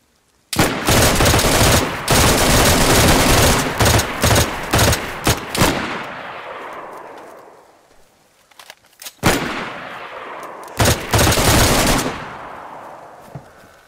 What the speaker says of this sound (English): we just going open fire or what?